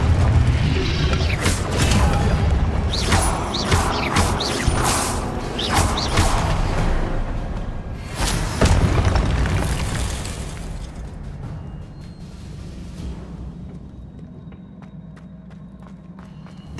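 A Confringo blasting spell in the video game Hogwarts Legacy bursts with deep, rumbling booms and crackling debris alongside footsteps and mechanical clatter, then the noise gradually thins to a quieter rumble near the end.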